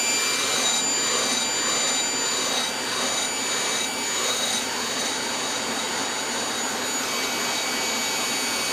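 A coffee roaster roasting beans from Chad runs with a continuous, even whooshing roar like a fan or blower, loud and steady throughout with no voices.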